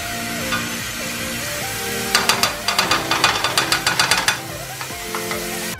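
French toast slices frying in a pan give a steady soft sizzle, with a burst of sharp, rapid clatter and scraping in the middle of the clip, likely a utensil working the pan, before the even sizzle returns.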